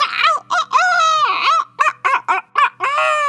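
A human voice imitates the cry of a flying hawk with a run of high, wavering screeches, first long and drawn out, then short and choppy, ending in a long wail. The voice sounds close and loud.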